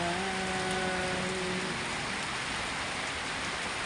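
Steady rain falls in Mambaling, Cebu, a constant dense hiss of drops on surfaces with no breaks; a faint tonal hum fades out early.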